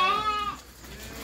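A single Romanov sheep, one of a pregnant flock on a farm, gives a short wavering bleat, close and clear, then fades into quiet.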